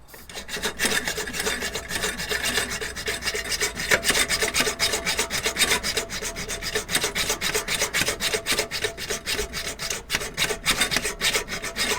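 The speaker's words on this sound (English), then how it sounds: "Alright, I'm gonna have to cut this bolt. Rusted solid." A rusted bolt on a heater exhaust is cut through, giving a continuous, rapid rasping grind that pulses steadily and loudly at close range for the whole stretch, with no talking.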